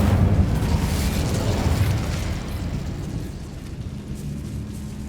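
An Incendio fire spell cast in the video game Hogwarts Legacy, heard as a loud whooshing burst of flame that slowly fades into a rumbling tail.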